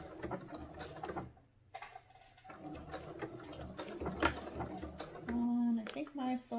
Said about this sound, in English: And I think my sewing machine got stuck.